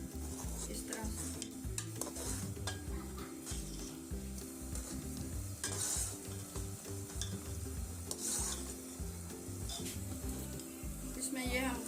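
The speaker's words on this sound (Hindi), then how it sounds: "अब ये इसमें अंडे हम डाल रहे हैं और इसको अच्छे से मिक्स करते रहना" Egg being stirred into a simmering chicken vegetable soup in a pot, a steady bubbling hiss with soft scraping and clinks of a utensil against the pot, continuous and moderately faint throughout.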